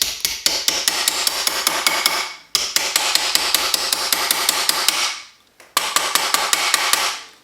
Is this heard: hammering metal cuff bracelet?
yes